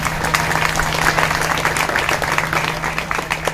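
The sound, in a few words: audience applause at a kirtan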